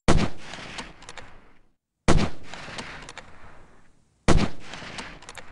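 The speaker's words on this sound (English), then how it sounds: "Somebody's shooting from all the way over there. And I'm guessing that that guy is a sniper. Based off the sound of his weapon." Three sharp sniper rifle shots in the Delta Force 2 video game, each a loud crack followed by a long rolling echo fading out, spaced about two seconds apart with no talking.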